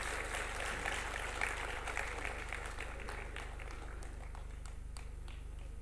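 Steady crowd applause at a launch event for the PM E-DRIVE scheme, cheering a proud vehicle owner; continuous, moderately loud clapping from a sizable audience that holds evenly for several seconds before slowly thinning.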